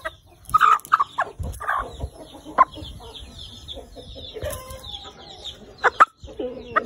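An Aseel hen clucks in short, sharp bursts, several loud calls scattered over a quiet background with a few softer bird noises between them.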